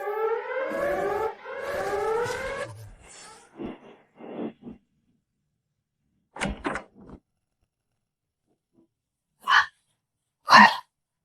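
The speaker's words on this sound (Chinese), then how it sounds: "这个警报声现在听着还挺顺耳的" An alarm siren wails in rising and falling sweeps for a few seconds, then stops, followed by silence and a few scattered short thuds and bursts of noise.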